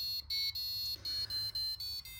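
A small electronic buzzer in an IR remote-controlled Christmas lights project beeps in a quick series of about seven short, high, evenly spaced tones, faint and with no talking.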